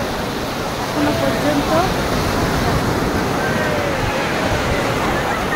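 Sea waves at Digha beach roll in as a continuous broad surf roar, close and loud, with a person talking over it and faint crowd noise in the background.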